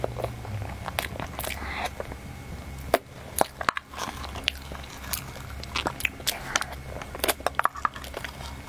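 Close, repeated bites and wet chewing of zongzi, a sticky rice dumpling, topped with mayonnaise, as irregular soft crunches and mouth sounds over several seconds.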